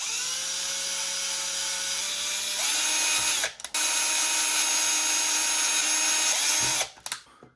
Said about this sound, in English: I'm just keep drilling holes along this path